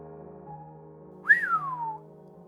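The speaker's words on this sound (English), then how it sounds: "I whistle." A person gives a single short rising-then-falling whistle, clear and close, over a quiet background hum.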